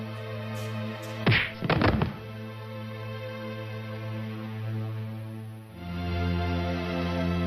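Fight sound effects from a Haryanvi film, with two loud thwacking punch hits in quick succession over a steady background music drone.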